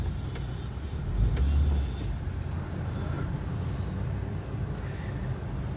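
A car rolls slowly into a workshop bay for wheel alignment, its low engine rumble steady and close, with a brief louder surge near the start and faint shop noise around it.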